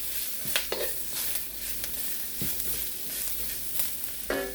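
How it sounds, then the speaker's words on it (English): Corn and carrots for Korean japchae being sauteed in an oiled pan, with a continuous sizzling hiss and intermittent scraping and clinking of a utensil stirring against the pan. "Saute it."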